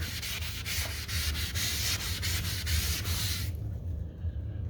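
A magic eraser rubbed over white wood door trim in brisk back-and-forth strokes, a loud close hissing scrub with a steady rhythm that stops shortly before the end.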